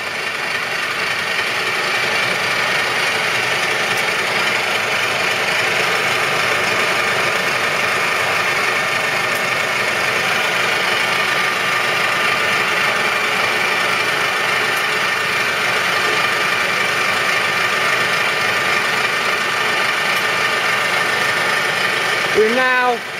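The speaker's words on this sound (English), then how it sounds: "We will now demonstrate the spindle in feed." A Union BFT125/5 horizontal boring and facing machine runs its spindle infeed, a steady close mechanical drone with a whining tonal hum that holds evenly throughout, ending with a brief clunk.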